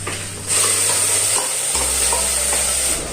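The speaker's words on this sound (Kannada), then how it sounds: "ಸೊಪ್ಪು, ಕರಿಬೇವಿನ ಸೊಪ್ಪು, ರುಬ್ಬಿಟ್ಕೊಂಡಿರೋಂಥ ಮಸಾಲೆನ ಆ್ಯಡ್ ಮಾಡ್ಕೊಳ್ತೀನಿ" Curry leaves, coriander greens and freshly ground masala sizzle loudly as they hit hot oil in a pan, with a steady frying hiss and stirring scrapes continuing throughout, no voices.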